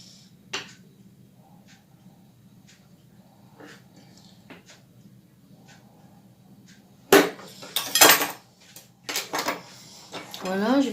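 A knife cuts through a caterpillar-style cake, sounding as a few sharp clinks and scrapes against the plate near the end, after a quiet stretch with soft handling sounds.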